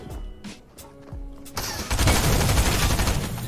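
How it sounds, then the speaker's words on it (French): Rapid bursts of gunfire in the Fortnite video game, with a few sharp shots early on, then dense, loud sustained automatic fire aimed at the player. "Qui me tire dessus, là?"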